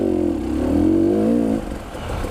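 An enduro motorcycle revs hard to climb a gully, a strained mid-pitch engine whine rising and holding for about a second and a half, then dropping to a lower rumble, fairly loud and near.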